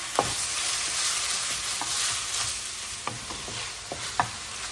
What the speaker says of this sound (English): Break the pork pieces apart with your spatula and keep stirring it.